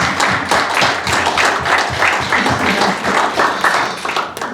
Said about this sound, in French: on va donner une bonne main d'acclamation au pasteur.